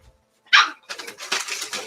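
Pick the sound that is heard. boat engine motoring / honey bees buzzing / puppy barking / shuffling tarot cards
puppy barking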